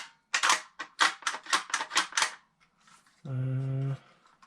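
Metallic clicks and clacks ring out in a quick run of about ten sharp snaps as an AR-15-style rifle magazine is handled and seated, close and distinct, followed by a short steady buzzing tone.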